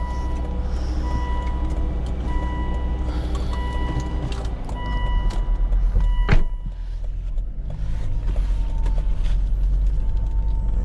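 Car engine running, a steady low rumbling idle with a brief clank in the middle and a faint tonal whine throughout.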